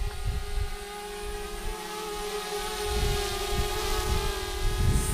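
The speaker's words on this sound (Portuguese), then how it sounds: "Vem, drone. Vem, drone. Vem, drone." A camera drone flies overhead near a waterfall outdoors, its rotor drone a steady, fairly loud buzzing whine that holds throughout and swells slightly toward the end, with faint ambient rustle beneath.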